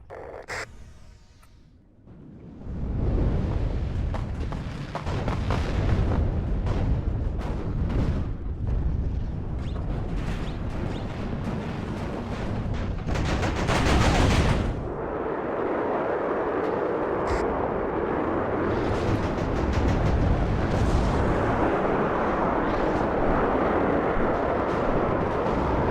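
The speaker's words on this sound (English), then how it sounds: "All those explosions. Look at that, incredible." A long stretch of heavy, rumbling video game explosions from laser-guided bombs in WARNO, loud and continuous, with a sharp surge midway before settling into a dense, sustained roar.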